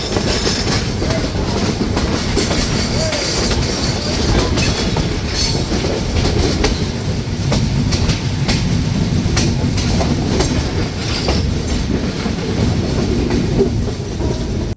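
The Chitra Express pulling out of Tangail railway station in Bangladesh on its Khulna–Dhaka run, heard as a loud, continuous rumble of wheels on rails with steady clatter and rattling, close and alone.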